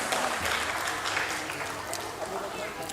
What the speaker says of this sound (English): Parents, please give a huge round of applause to your kids